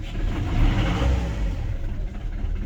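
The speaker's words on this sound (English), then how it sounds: "Engine starts right up." Inboard engine of a 1981 Explorer 45 sailing yacht running after starting, a low steady rumbling drone heard close up, with no talking.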